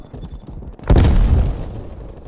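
A gun fires in a multiplayer shooter video game, a sudden loud close burst of booming rapid shots that rings out and fades over about a second after a quiet lead-in.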